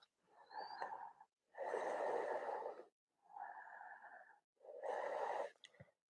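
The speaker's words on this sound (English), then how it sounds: "Deep Ujjayi breaths." Deep, slow Ujjayi breathing during a vinyasa yoga flow: four long, hissing, throaty breaths alternating in and out, close and steady with brief pauses between them.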